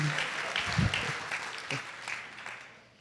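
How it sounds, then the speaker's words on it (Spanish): A church congregation claps briefly during a sermon, a fading patter of applause with a voice speaking over the start. "Apláudanse, aplaudí, ¿verdad?"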